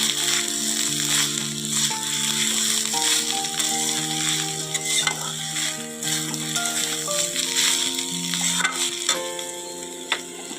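Bata fish sizzling steadily in oil in a home kitchen, a continuous crackle with small pops throughout, mixed under prominent background music.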